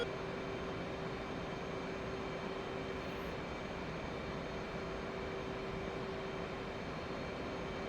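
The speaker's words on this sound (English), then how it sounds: "let's go land this thing on an aircraft carrier" A fighter jet, F-14 or F-18, approaching to land on an aircraft carrier in DCS, a steady unbroken engine roar with a sustained whine throughout, loud and constant.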